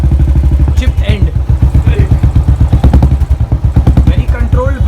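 Royal Enfield BS4 motorcycle fitted with a Gold Star exhaust with a chipped end, its single-cylinder engine thumping loud and close in a steady, slow, deep pulsing beat, with some mechanical clatter and a voice speaking over it.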